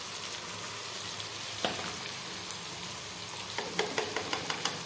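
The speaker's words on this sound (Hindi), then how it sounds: "अब इसे भून लेते हैं।" Chana dal masala with ginger garlic paste and spices fries in a pan, giving a steady close sizzle and crackle with occasional stirring clicks and scrapes, and no one talks.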